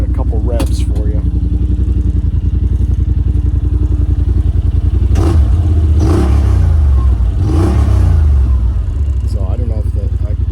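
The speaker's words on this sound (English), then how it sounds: "Give it a couple revs for you." Engine on a vehicle fitted with a Weller Racing ECU flash and exhaust tip, idling with a loud, close lumpy exhaust note, then revved twice in quick bursts before settling back to a steady thump.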